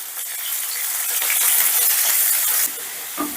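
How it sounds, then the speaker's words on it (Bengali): Carrots fry lightly in a pan while a mixed fried rice is being cooked, giving a steady, close sizzle and hiss that cuts off sharply near the end. "এবার গাজরটাকে প্রথমে আমি হালকা করে ভেজে নেব"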